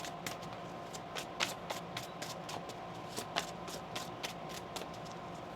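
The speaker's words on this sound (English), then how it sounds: "One more shuffle." Tarot cards being shuffled by hand, a soft steady riffling with light irregular taps and flicks, close but quiet, continuing without talk for several seconds.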